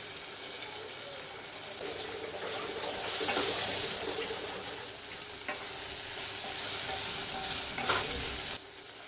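Ridge gourd, dal, spiny gourd and potato being stir-fried in a pan for a vegetable curry, a continuous sizzle with scraping and stirring sounds, steady and close.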